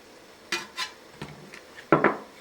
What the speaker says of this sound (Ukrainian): Перемішую і все висипаю в овочі і м'ясо.